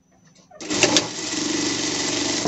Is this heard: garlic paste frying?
no